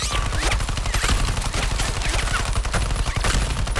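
Loud, continuous gunfire from the Suicide Squad video game, with rapid overlapping shots and bursts of automatic fire crackling without pause throughout.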